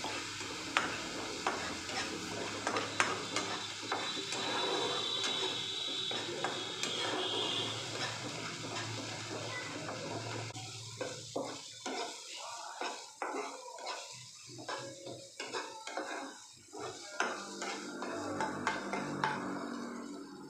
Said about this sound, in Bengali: গ্যাসের ফ্লেমটা মিডিয়াম রেখে সুন্দরভাবে মশলাগুলোকে কিন্তু কষিয়ে নিতে হবে